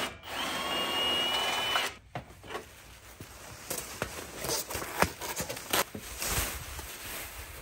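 Power drill spinning out a bolt on a shipping crate, a high whine for about two seconds, then scattered clicks, rattles and knocks close by.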